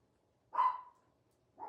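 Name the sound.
dog barking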